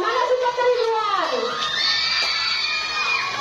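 A crowd of children at a school speech contest cheers and shouts loudly for contestant Ridwan, a dense, sustained burst of excited young voices that fades slightly but carries on throughout.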